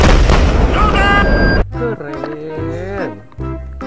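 A toy battle tank plays its electronic combat sound effect, a loud burst of rumbling blasts and crackling fire lasting about a second and a half before cutting off, followed by a voice talking.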